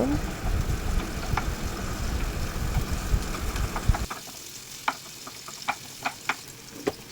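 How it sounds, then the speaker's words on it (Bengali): Chopped onion and garlic fry in oil, a low rumbling sizzle for about four seconds that drops away, followed by scattered sharp spatula clicks against the pan. "পেঁয়াজটাকে একটু হালকা রসুন সহকারে ভেজে নিব।"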